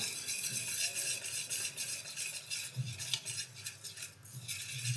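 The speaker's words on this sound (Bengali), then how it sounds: "এটাকে এখন ভালো মতো মিলিয়ে নেব।" Dhokla batter being mixed in a bowl, with a continuous soft scraping and stirring of a utensil against the bowl that comes in gentle, uneven strokes, plus a faint voice in the background.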